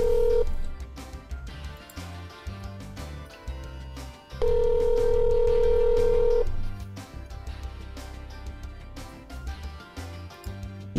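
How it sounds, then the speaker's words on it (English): Ringback tone of an outgoing telephone call: two long, steady ringing tones over background music. "Okay, it's ringing."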